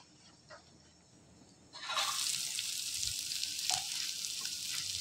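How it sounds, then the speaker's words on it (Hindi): Sliced onion dropped into hot oil with crackling cumin seeds: quiet at first, then a sudden loud, steady sizzle that carries on with small pops and stirring touches. "प्याज को थोड़ा सा भून लेने के बाद में, बस ज़्यादा नहीं, 1-2 मिनट बस सौटे करूंगी"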